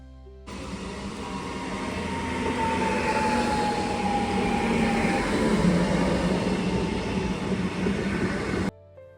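A passenger train on the line to Lecco pulls into a station, its rumble rising and holding steady with a long, thin wheel squeal drawn out over the roar before it suddenly cuts off.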